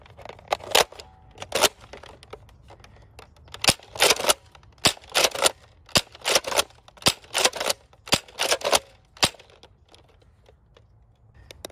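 Toy foam dart blaster shooting Adventure Force Waffle darts, a series of sharp snapping shots fired in quick irregular bursts, loud and close against a quiet background.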